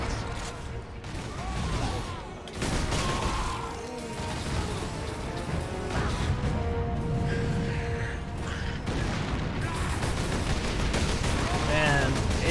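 Explosions and gunfire in the Warhammer 40,000: Space Marine video game, a dense continuous barrage of loud booming artillery blasts close by, layered with battle noise and talk throughout.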